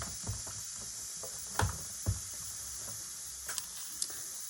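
A steam iron hisses steadily during an embroidery pressing session, a continuous broadband sizzle with a few soft clicks and thumps from handling, no voices.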